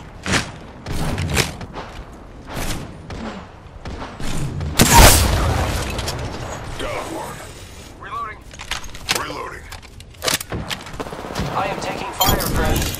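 A grenade blast in a shooter video game lands as one loud broadband boom mid-clip, surrounded by scattered gunfire, footsteps and announcer-style voice lines.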